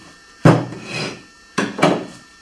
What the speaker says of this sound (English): And then I like to take the rasp. I want to kind of take the sharp edges off